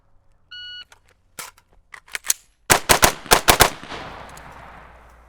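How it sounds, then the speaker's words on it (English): A rifle fires during a speed reload shooting drill: a few beeps, scattered clicks and handling of the reload, then a quick string of loud close shots in pairs and threes, trailing into a decaying echo. "speed reload and then 3 on each target with the rifle"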